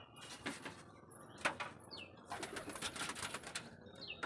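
Soft, quick bursts of flapping wings come in several flurries, close by and fairly faint, with a few light chirps between them.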